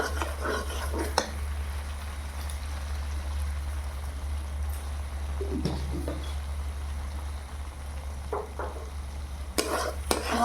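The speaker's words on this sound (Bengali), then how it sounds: "মশলাটা খুব সুন্দর ভাজা হয়ে গেছে" Masala sizzles gently in oil in a pan while it is stirred for chana paneer, with a steady low frying hiss and occasional scraping strokes of the spoon, and faint birdsong in the background.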